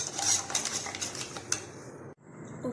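Spoon or whisk rapidly beating instant coffee with about two tablespoons of water in a cup for cold coffee, a dense, steady clatter of metal against the vessel that stops abruptly near the end, with no talk.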